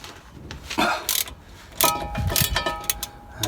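A ratchet wrench fitted with a half-inch socket drives bolts on a Ford Transit propshaft centre bearing, giving quick bursts of close mechanical clicking and rasping in short uneven spurts.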